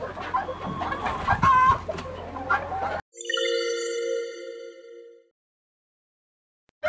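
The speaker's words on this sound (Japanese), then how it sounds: "砂浴びです。" A pet hen dust bathing in a backyard flock gives several close clucks over a noisy first half, then a sustained, tonal cackling call rings out alone before it falls silent.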